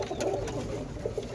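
Roller pigeon cockbirds coo softly nearby, a few low throaty calls over a murmuring background.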